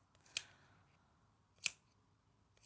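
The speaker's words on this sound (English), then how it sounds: "I can use my better ones to snip into the curves" Sharp scissors snip into the curves of fabric for a sling crossbody bag, giving three crisp, isolated cuts spaced about a second apart in an otherwise quiet room.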